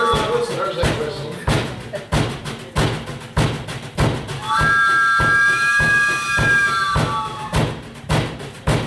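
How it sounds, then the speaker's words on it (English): A train whistle sounds in sustained tonal blasts over a steady rhythmic thumping beat, part of a gospel band performance of a song about a long black train, with the whistle moderately loud against the music. "There's that whistle."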